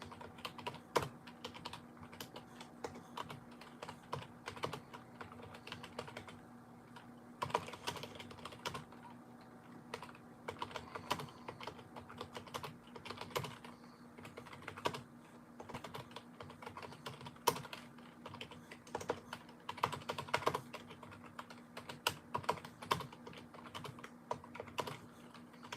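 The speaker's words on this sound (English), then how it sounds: "I'm just gonna type this out here." Someone types steadily on a computer keyboard during a Yu-Gi-Oh livestream, a quiet close run of irregular key clicks over a low hum, with short pauses between bursts.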